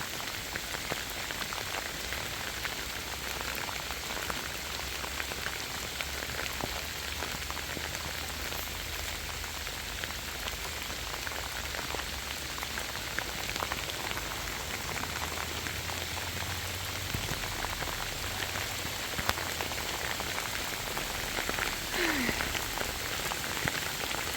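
Steady rain falling outdoors, a dense continuous patter of drops on surfaces that holds evenly throughout with a low rumble underneath.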